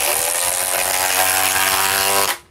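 A DeWalt XR DCF860 impact driver with a 5 amp PowerStack battery runs at full speed, a loud, steady motor whine that holds for about two seconds and then cuts off abruptly as the trigger is released.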